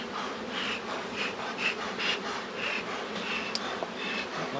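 Honey bees buzz steadily around an open hive, a dense continuous drone with a few louder passes of individual bees close by.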